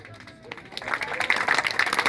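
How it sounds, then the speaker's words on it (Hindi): An audience claps at an Ayurveda department gathering in Bhinmal, with applause swelling from scattered claps into a steady, fairly loud round over a murmur of voices. "अब बजाइए तालियां।"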